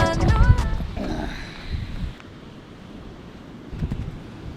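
Strong wind gusts on a beach, with loud buffeting microphone rumble that eases after the first two seconds, then rises again near the end.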